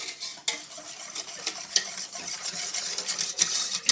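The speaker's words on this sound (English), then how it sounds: "then you just whisk it up" Gravy mix whisked in a crockpot: quick, busy scraping and swishing strokes run throughout at close range, with sharper clicks of the whisk against the pot, and no voices.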